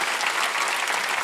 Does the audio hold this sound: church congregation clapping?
yes